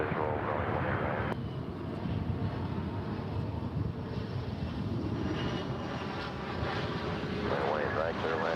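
Airliner landing on runway 18 right at DFW airport, a loud, continuous engine roar with wind rush heard close, under brief radio talk.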